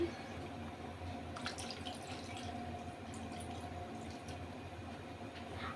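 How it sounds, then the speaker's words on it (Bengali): Water poured into a pot of oil-free potato and soybean curry, a faint, continuous watery rush that runs evenly throughout with no voices. "জল দিয়ে দিচ্ছি"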